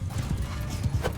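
Horse cavalry gallops in Mount & Blade II Bannerlord, a dense rumble of hooves clip-clopping under a broad battle din, with a faint whinny near the end.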